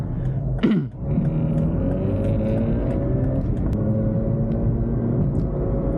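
Steady engine drone from a 2007 Mazda RX8 with a rotary engine and six-speed manual, heard from inside while heading onto the highway, with gear-shift pitch changes and a brief dip near the start.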